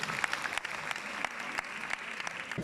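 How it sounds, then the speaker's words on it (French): Audience applause at a cosplay festival, steady dense clapping from a crowd, moderately loud and continuous throughout with no talk over it. "Vous pouvez l'applaudir bien fort."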